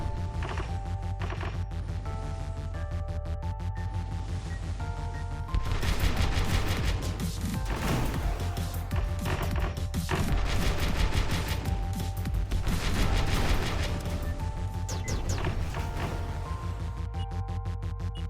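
Projectile fire from Starwave Defender, a space shooter, forms a dense, continuous, fast-repeating stream of shots over a musical game backdrop, growing louder and thicker in the middle stretch.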